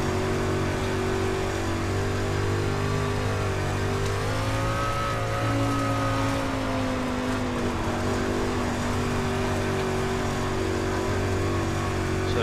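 A street stock race car laps Volusia Speedway Park in the iRacing video game. Its engine drones steadily and loudly, the pitch dipping and rising through the turns, with no voices.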